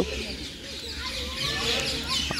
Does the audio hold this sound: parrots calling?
yes